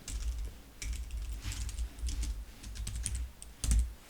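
Keys tapped on a computer keyboard while entering text into a web page template, a steady run of light, close clicks in uneven bursts with a louder strike near the end, no voices.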